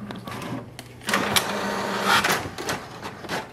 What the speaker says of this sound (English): press the information button once and wait for the printer to print a page.